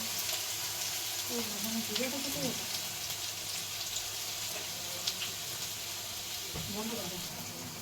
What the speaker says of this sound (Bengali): অল্প মতন আলু একটুকু লাল লাল করে ভেজে নেব